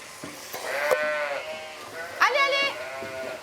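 Dairy ewes on a farm in the Ardennes bleat in several long, wavering calls, close and fairly loud, with a second burst of bleating later in the clip.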